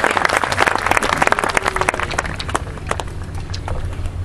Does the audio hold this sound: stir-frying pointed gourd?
no